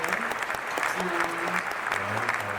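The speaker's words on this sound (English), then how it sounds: "Round of applause" Small group applause at a hip-hop and anime podcast taping, steady clapping with voices talking over it and a low hum underneath.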